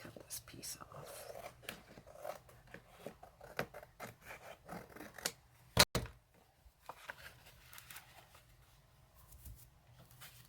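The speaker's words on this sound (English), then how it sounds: "So I'm going to have to cut this piece off." Scissors snip and rub through a piece of card paper in short, quiet, irregular cuts, close up, with one sharp loud snap partway through and soft whispered talk in the background.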